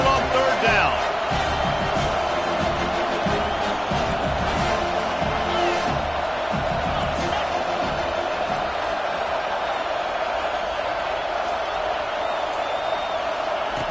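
A home crowd at a football game roars steadily as the defense faces third down, a loud, sustained wash of cheering that holds throughout, with a commentator speaking over it.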